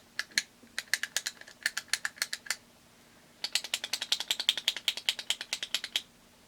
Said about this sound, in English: And it's like one of the clicky concealers.